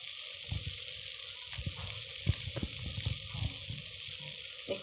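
Ghavan, a thin Maharashtrian crepe, frying uncovered on a pan over medium gas with small drizzles of oil, giving a soft steady sizzle with scattered low pops and crackles, fairly faint and alone.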